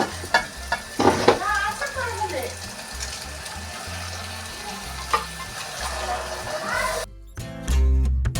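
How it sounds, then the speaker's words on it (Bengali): Chicken meat being stir-fried in a pot for kosha, a constant sizzle with frequent stirring scrapes and knocks, a voice briefly audible, ending in a louder burst of handling. "মাংসটা কিছুক্ষণ কষিয়ে নিয়েছি"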